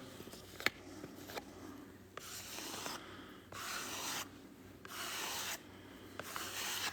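Repeated dry scraping strokes over vellum in a watercolor painting session, a soft rasping texture swelling into several longer, louder passes with brief pauses between, close and alone.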